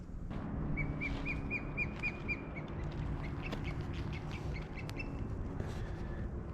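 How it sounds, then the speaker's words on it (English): Osprey chick calling from a nest high in a tree on a hike near Coeur d'Alene, Idaho: a run of thin, rapid whistled peeps, then scattered sharper chirps over steady outdoor background noise. "The nest has actually been taken over by osprey. I think that's a baby up there."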